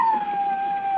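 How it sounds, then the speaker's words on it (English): A lone dog howls in a 1945 radio drama sound effect, a single sustained, slightly falling tone held for about a second, moderately loud with no talk over it. "The neighbor's dog's at it again, Mrs. Edney."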